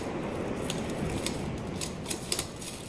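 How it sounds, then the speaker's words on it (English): Scissors cutting the seal on a decade-old Yu-Gi-Oh Legendary Collection binder, a few short, crisp snips over steady room noise, growing sharper near the end. "Let's cut the seal."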